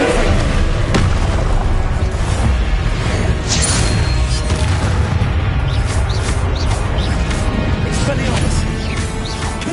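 Confringo fire spells explode in a Hogwarts Legacy battle, dense booming blasts and crashes stacking over a loud, steady combat roar, with a voice speaking over the action.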